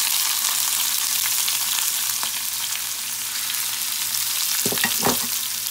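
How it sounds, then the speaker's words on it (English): Onion sizzling in hot oil with cumin seeds in a pan, a steady loud frying hiss throughout with a few clattering stirs near the end. "Now in goes the onion."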